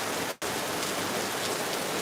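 Steady rain falling in Lagos after hours of downpour, a dense continuous hiss of drops on surfaces with one brief dropout near the start.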